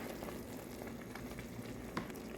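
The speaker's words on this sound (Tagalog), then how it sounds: "Hintayin natin siyang kumulo ulit" Lomi soup broth in a pot bubbles at a steady, quiet boil, with soft popping and a continuous simmering hiss.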